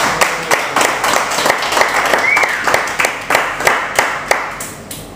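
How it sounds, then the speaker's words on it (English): An audience at a comedy or psychic show gives a round of applause, a moderately loud patter of clapping with distinct individual claps pulsing unevenly throughout. "Come on, give Denise a round of applause, everybody."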